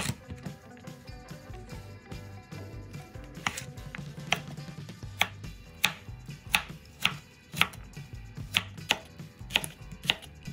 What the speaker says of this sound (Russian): Морковь нарезаем кубиком.